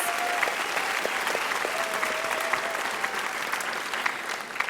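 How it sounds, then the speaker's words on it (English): Pageant audience at the Miss Oklahoma competition gives a sustained round of applause after the Top 10 talent event, a dense steady wash of many hands clapping with a faint tonal line threading through. "Let's give them a huge round of applause."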